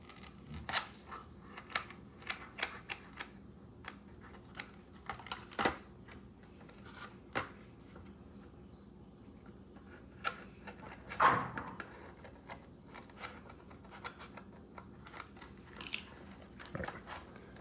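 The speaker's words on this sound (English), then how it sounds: "I just get scissors and I cut the hair out." Quiet, scattered snips of scissors cutting tangled hair from a Dyson DC40 vacuum brush at irregular intervals against a faint background, with an occasional louder rustle.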